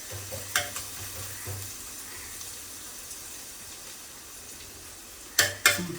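Onions fry in coconut oil, a soft steady sizzle with a few sharp scraping stirs of a spoon against the pan at the start and end, no talking.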